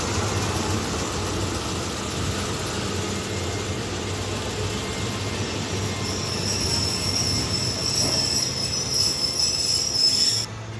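A passenger train pulls into Phetchaburi railway station in Thailand, its wheels squealing steadily under a constant rumble of rolling cars, with a sharp high-pitched screech building near the end as it slows.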